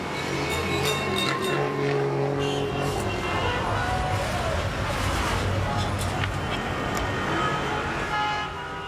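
Heavy city traffic in Kolkata, India makes a loud, continuous roar of engines and rumbling vehicles, with scattered horn toots and a voice talking over part of it.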